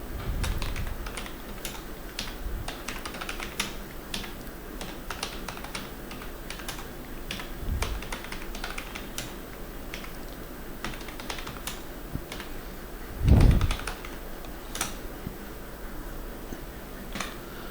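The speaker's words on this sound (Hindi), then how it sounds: "आगे का डेटा मैं टाइप कर रहा हूँ" Keys clatter on a computer keyboard as data is typed into a Microsoft Word table, with scattered clicks, short bursts and a heavier thump near the end over a quiet room hum.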